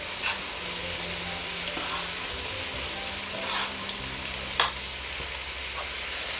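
Brinjal gravy frying and being stirred in a pot for a chicken biryani side dish, with a steady close sizzle and occasional spoon scrapes and clinks against the metal.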